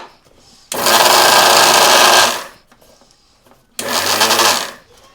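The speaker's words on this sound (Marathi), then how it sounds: "आपण आता तिळाचा मिक्सर घेऊया लावून" A mixer grinder grinding sesame seeds whirs loudly in two short bursts, the first almost two seconds, the second briefer, with quiet pauses between.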